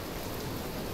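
Steady, dense hiss of heavy rain in the video game Bioshock Infinite, an opening scene with rainfall and flooding, a continuous wash of noise with no talk over it.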